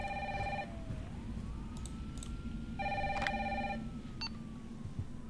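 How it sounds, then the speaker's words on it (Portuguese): Two bursts of a warbling electronic phone ring in the Resident Evil 3 video game, fairly loud and separated by a pause, over a dark rumbling ambience with a faint rising tone. "Ó, telefone tocando."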